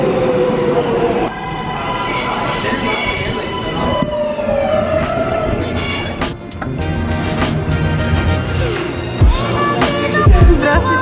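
A New York subway train at Morgan Avenue station, with loud rumbling and squealing rail noise, tonal screeches and clatter from the cars filling the platform.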